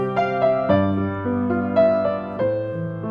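Piano chords ring out one after another, each struck firmly and left to sustain, in a slow, steady progression.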